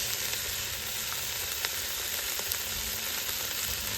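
Ginger garlic paste with mirepoix vegetables and bay leaves sizzles in a hot pan outdoors, a steady close frying hiss with faint crackles throughout and no voices.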